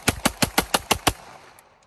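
Seven rapid, evenly spaced shots ring out from an Intratec Tec-9 replica pistol on an outdoor range, sharp and fairly close, followed by a brief quiet tail with faint clicks.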